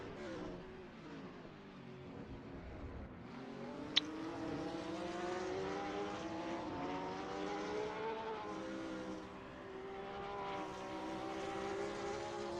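Porsche and BMW GT3 race cars fight wheel to wheel through the turns of Laguna Seca in a racing video game, engines droning and shifting pitch steadily throughout, with a sharp brief click near the middle.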